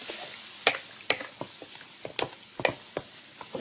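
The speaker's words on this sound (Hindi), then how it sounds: "और फिर हमने इसको भूनना है अच्छे तरीके से" Yogurt and tender cooked meat fry over high heat for yakhni pulao, giving a steady soft sizzle broken by repeated sharp spatula scrapes and clacks at an uneven rhythm, close and with no talk.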